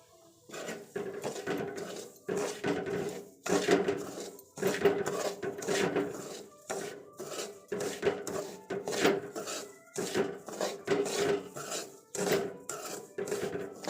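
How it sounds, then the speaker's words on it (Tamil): Semolina (rava) roasting in ghee in a pan for rava laddu, with a spoon scraping and clinking against the pan in steady, repeated strokes, fairly close and with no talking. "அதை அதில் போட்டு நல்லா வதக்கிக்குங்க"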